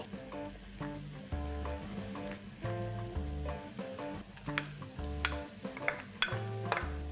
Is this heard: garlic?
yes